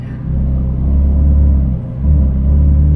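A Ferrari 458 Speciale's 4.5-litre naturally aspirated V8 idles in a deep, steady rumble heard from inside the car, loud and close, with a brief dip and then a slight rise in engine note.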